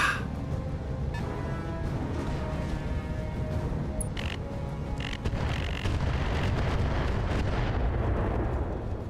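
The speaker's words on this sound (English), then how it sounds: "I'm being chased around by airstrikes." Airstrike explosions in the BattleTech game, a dense, continuous rumble of booms and bursts with several sharp crackling impacts, loud and sustained, swelling slightly toward the end.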